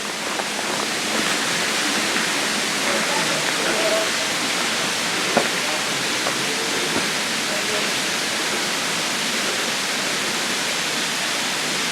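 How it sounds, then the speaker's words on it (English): A small, gentle stream flows through a wooded Wisconsin state park, giving a steady, close rushing and trickling wash of water that runs unbroken throughout with no talking. "The water just keeps continuing on down here."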